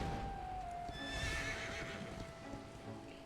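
A horse whinnies in the role-playing game Dragon Quest 11, a clear, fairly close neigh with clip-clopping hooves and light ambient sound beneath.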